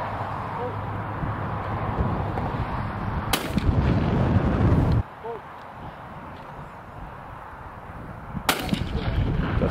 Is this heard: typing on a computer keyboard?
no